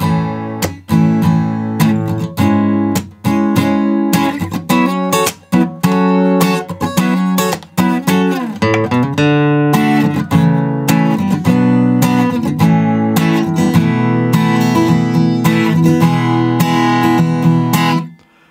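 A guitar in standard tuning plays the intro of a song, with rhythmic strummed chords and brief stops between phrases, loud and close, with no singing or talk.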